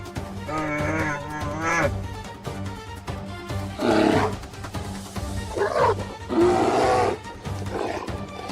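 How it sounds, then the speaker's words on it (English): A bear gives deep, forceful roars in wild surroundings, several loud drawn-out bellows separated by short pauses. "The bear roared, a deep, forest-shaking sound"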